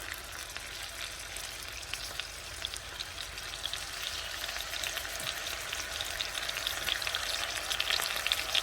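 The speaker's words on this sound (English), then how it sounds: "As you can hear the sizzling noise." Chicken pieces fry in hot oil in a wok, giving a steady close sizzle with crackling spatter that grows slightly louder toward the end.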